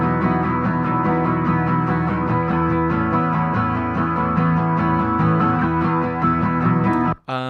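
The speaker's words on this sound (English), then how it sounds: "these are more acoustic guitars down here" Acoustic guitars layered in a produced music mix, dense sustained strummed tones with steady rhythmic motion, playing continuously until a brief cut near the end.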